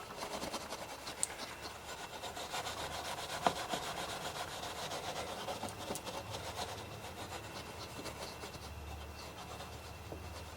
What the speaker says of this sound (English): Get some steel wool here. A little bit of oil and junk build up there. Get her nice and clean.